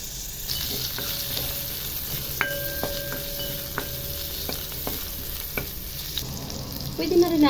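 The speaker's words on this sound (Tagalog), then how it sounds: "inuna ko nang ginisa yung ating luya. Gusto ko yung gisang-gisa." Chopped ginger sautés in a hot pan with a continuous close sizzle, broken by occasional scrapes and taps of a stirring utensil.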